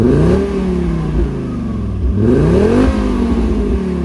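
A non-turbo Fiat Coupe engine revs repeatedly up and down, a throaty rising and falling growl heard close and loud with no voices.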